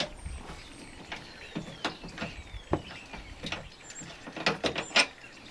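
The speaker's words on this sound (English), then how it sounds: "so we can undo this lever here" A lever being undone on a touring caravan chassis during a service gives a run of close metallic clicks and clunks with small scraping movements, scattered irregularly and ending in a couple of sharper knocks.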